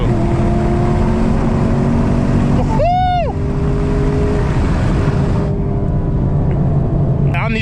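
Chevrolet Camaro SS V8 engine droning steadily while driving, a loud constant rumble with road and wind noise throughout.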